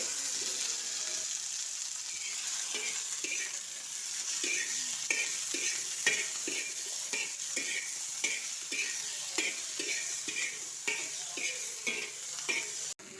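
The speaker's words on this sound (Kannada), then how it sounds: "ಈ ತಿಪ್ಪಿಕಾಯಿ ಸ್ವಲ್ಪ ಫ್ರೈ ಆಗ್ತಿದ್ದಂಗೆ ಹಸಿಮೆಣಸಿನ್ಕಾಯಿನ ಹಾಕೋತಾ ಇದ್ದೀನಿ. ಇದರಲ್ಲೇ ಮಿಕ್ಸ್ ಮಾಡಿ ಹುರಿಬೇಕು." Tippari kayi and green chillies stir-fried in a pan for a North Karnataka chutney: a steady bright sizzle runs throughout, broken by regular scraping strokes of a spoon against the pan, with no talking.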